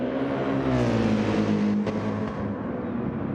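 GT3 race car engine at full throttle during a league race at Suzuka in a sim racing game, a steady loud drone with rising pitch through the gears and a brief shift blip near the middle.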